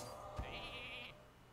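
In Hearthstone, a sheep created by Polymorph gives a single short nasal bleat at moderate volume, with a soft thud just before it and no voices.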